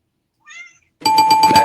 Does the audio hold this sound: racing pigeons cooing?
no